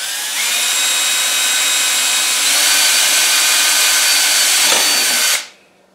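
A loud power drill runs continuously through a vinyl plate, its pitch rising slightly as it bites through the material, then cuts off abruptly near the end.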